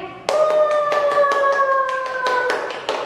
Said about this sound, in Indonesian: minta instruksi adik-adik untuk tepuk tangan